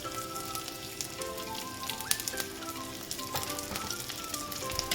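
Onion, capsicum and cabbage sauté with garlic in a hot pan, a dense, even sizzle crackling continuously up close, with faint tinkling clicks scattered through it.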